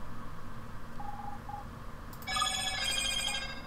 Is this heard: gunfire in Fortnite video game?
no